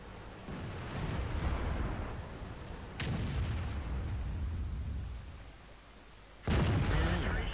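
Artillery fire in the tank combat game World of Tanks: heavy booming blasts with rumbling tails, a big one near the start, a sharp one at three seconds and another loud impact near the end, fairly close and continuous.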